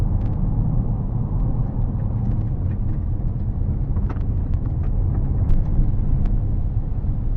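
Interior road noise from a 2020 Dodge Grand Caravan cruising at about 60 km/h over a rough, uneven road surface: a steady, dense low rumble with faint ticks and rattles scattered throughout, no voices.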